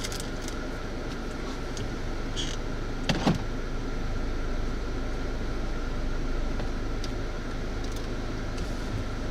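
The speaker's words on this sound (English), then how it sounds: "I did turn the AC on because it is very warm in the car, so sorry if y'all hear a lot of wind noise." Inside a moving car with the air conditioning on, a steady broadband rush of wind and blower noise fills the cabin, with a couple of faint clicks, and nobody talks.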